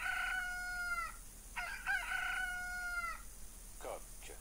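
A rooster crow from a baby's animal sounds app plays back in two bright, drawn-out cock-a-doodle-doo calls, fairly clear against quiet room noise, with a brief voice at the end.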